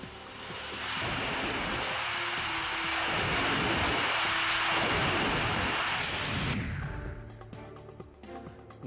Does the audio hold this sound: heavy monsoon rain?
yes